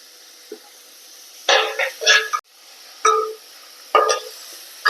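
Onions with a little salt sautéing in a pan while cooking a pappadam curry, with a few short bursts of sizzling and stirring, close and fairly loud, separated by quiet gaps.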